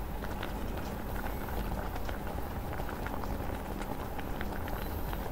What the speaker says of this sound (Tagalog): Takpan muna natin at hayaang kumulo.